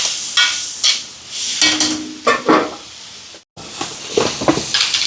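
Onions, tomatoes and chopped green chillies sautéing in a pan for a home-cooked birthday meal, with close scraping stirs and sizzling in uneven bursts, a brief silent gap midway, then more stirring.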